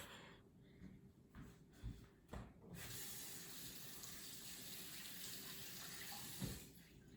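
Tap water runs steadily into a sink while apples are washed, a constant close hiss and splash with a few brief thumps and rattles of handling near the start, no talking.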